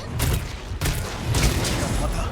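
A full burst fire attack with a gunlance in Monster Hunter World: Iceborne, a dense rapid string of loud blasts and booms that rolls on almost without a break.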